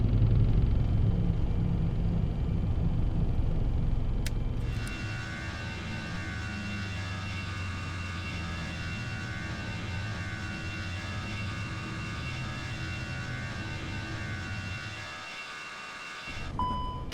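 Jet engines spool up to a steady, loud, broadband roar with a faint tonal whine during a takeoff roll in the FSLabs A320-X flight simulator game; the roar holds continuously, then drops away briefly near the end.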